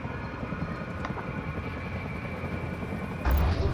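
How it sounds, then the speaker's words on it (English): Rotor drone of European Enforcer helicopter gunships over tree lines in the video game EndWar, a continuous low chopping hum that swells louder near the end. "just over the tree lines, there's European Enforcer gunships"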